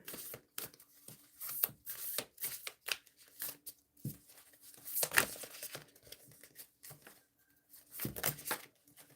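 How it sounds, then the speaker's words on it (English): New tarot cards being shuffled by hand during a live reading, a run of quick papery riffles, flicks and snaps in uneven bursts, close and fairly soft, with no talk over them. "These cards are hard to shuffle."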